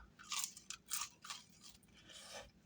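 Biting into a broccoli quiche breakfast quesadilla, with a few close crunchy bites followed by soft chewing, faint and near.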